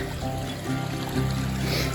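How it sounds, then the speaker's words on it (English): A small brook running down from a hilltop beside a woodland path in the Peak District, its steady trickle close and moderately loud throughout, with no one speaking. "There's a little brook that runs down from the top, must come out here."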